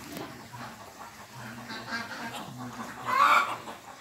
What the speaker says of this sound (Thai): เป็ดทั้งหมดมีเจ้าจิ๊บนี่เป็นเป็ดที่ฉลาดสุด